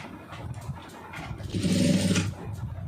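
A sewing machine stitches a blouse cup seam in a short whirring run of about a second, rising out of quiet room background and then stopping.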